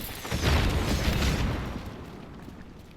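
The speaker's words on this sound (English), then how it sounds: "Try exploding those barrels" Barrels blowing up in Dragon Age: Veilguard, with a loud booming explosion blast that swells around half a second in and rumbles and fades out over the next couple of seconds, no talking.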